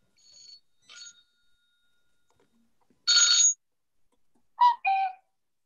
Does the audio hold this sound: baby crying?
no